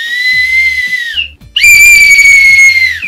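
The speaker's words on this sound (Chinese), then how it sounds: "这是一个哨子，下一个。" A small toy whistle blown twice, giving two loud, shrill, steady tones, each a bit over a second long with a short gap between them, sounding close by with no talking.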